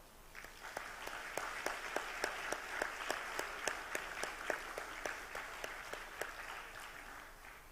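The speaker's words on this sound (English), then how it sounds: "we celebrate Julián with a round of applause" A small crowd at a publishers' congress awards event applauds steadily, with crisp, rhythmic claps standing out over a softer wash of clapping, moderately distant and sustained.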